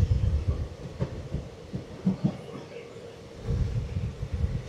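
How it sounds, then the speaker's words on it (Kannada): The Mysuru–Talaguppa Intercity Express runs at about 60 km/h, giving fairly faint, rhythmic low thumps and clatter of wheels over rail joints that fade in the middle before building again. "ನಮ್ಮ ಟ್ರೈನ್ ಬಂದ್ಬಿಟ್ಟು ಇವಾಗ ಒಂದು 60 km/h ಅಲ್ಲಾದರೆ ಹೋಗ್ತಾ ಇದೆ ಸ್ಪೀಡು"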